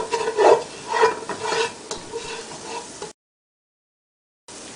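Spices dropped into a pan with garlic sizzle softly while being stirred and scraped in short bursts, then the sound cuts out abruptly before resuming faintly, no voices.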